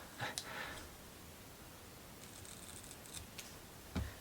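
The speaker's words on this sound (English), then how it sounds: "I'm going to cut this in half" Scissors snip through a small part of a ROKR Emperor Scorpion mechanical model kit, a few faint, quiet clicks and cuts spaced out over near silence.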